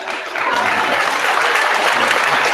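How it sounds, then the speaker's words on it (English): A studio audience breaks into loud, dense applause that swells quickly and holds steady throughout, close and continuous with no voices over it. "I don't know why the audience claps for that"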